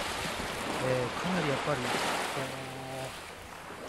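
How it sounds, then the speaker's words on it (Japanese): Waves wash against the shoreline of a beach on Tsushima, Japan, a soft continuous surging hiss that sits beneath someone speaking close by. "音が深いような、やはり特にこう、人には聞こえるような、そんな波の音がしますね"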